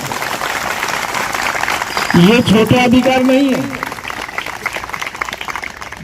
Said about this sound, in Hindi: इसके लिए ताली बजना चाहिए उनको।